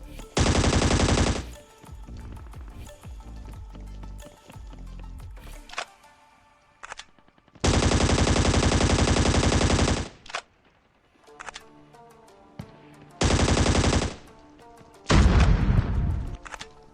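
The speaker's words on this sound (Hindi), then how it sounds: "सामने से मुझे कुछ बंदों के फायरिंग के साउंड आ रही थी" Automatic gunfire in the Scarfall 2.0 battle royale game on the Andaman map, loud sustained bursts separated by quieter stretches of distant shots and game effects.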